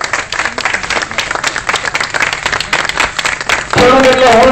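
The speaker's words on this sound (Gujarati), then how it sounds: "તાળીઓ થી ગડગડાટ થી વધાવતા રહીએ" An audience at an event claps together in a long run of irregular applause, loud and close, before a voice takes over near the end.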